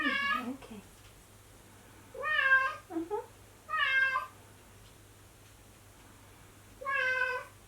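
A house cat meows several times during a yin yoga session for lower back pain, each meow fairly close and clear, spaced a second or so apart over a low steady hum.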